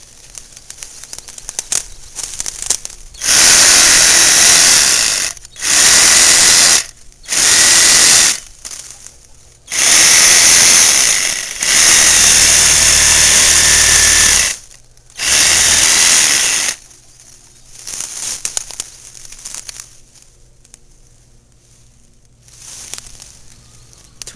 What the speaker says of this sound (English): Now we're going to do it with the reciprocating saw.